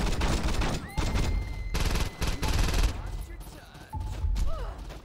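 Repeated bursts of gunfire in the Saints Row 2 video game, loud, rapid volleys in clusters, mixed with other in-game noises and chatter.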